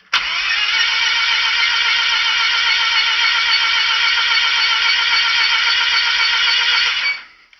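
A Mazda RX8 race car's rebuilt rotary engine is cranked by the starter during a compression test, a loud, close, steady buzzing whir for about seven seconds that cuts off abruptly without firing.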